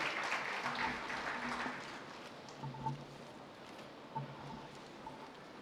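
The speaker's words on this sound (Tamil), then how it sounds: "நாம் இப்பொழுது கைத்தட்டி நாம்" Faint applause from an audience at a Christian Christmas celebration in Tiruchirappalli patters on for a couple of seconds and then fades into quiet room noise with a few soft sounds.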